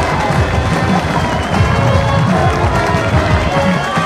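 A home crowd roars at a college football stadium during North Greenville versus Delta State, a loud sustained wall of cheering and shouting with scattered clapping, no single voice standing out.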